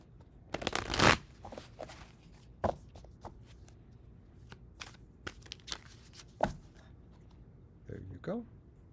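Tarot cards are shuffled close by, a brisk riffle burst followed by scattered soft slaps and shuffles, with a voice briefly near the end.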